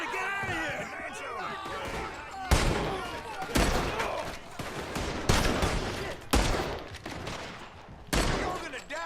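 Gunfire in a Red Dead Redemption 2 shootout: repeated sharp loud shots in irregular bursts, some rapid, with voices shouting in between.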